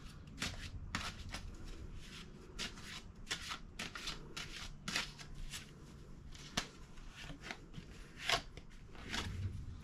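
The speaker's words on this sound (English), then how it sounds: "So I'm going to shuffle and find the Lover's card." Tarot cards being shuffled by hand, a run of crisp riffling and slapping bursts at an irregular rhythm, close and fairly quiet, with no talking.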